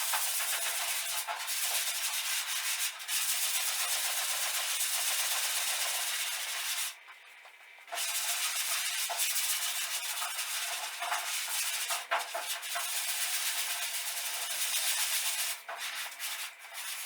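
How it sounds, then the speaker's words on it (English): Sandpaper rubs steadily over body filler and guide coat on a truck panel, a loud, close, continuous hiss broken by one brief pause and a few small catches. "just going 45 degrees like this when you sand it"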